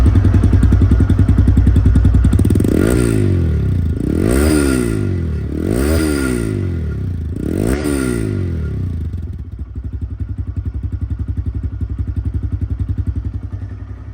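A TVS Raider 125cc motorcycle engine idles steadily close by after a self start, with a low, even thrum and a few rhythmic revs or swells before it settles back to a steady idle.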